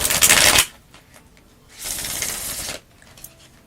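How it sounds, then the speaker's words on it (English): Gilded Tarot cards shuffled by hand in two bursts of crisp riffling, the first short and loud, the second longer and a little softer, with quiet pauses between and nobody speaking. "Let me just quickly shuffle these"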